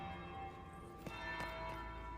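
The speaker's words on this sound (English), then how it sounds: "That's the bell." Bell in the video game Dragon Age: Inquisition ringing faintly under a steady ambient drone, with a few soft strikes spaced about a third of a second apart.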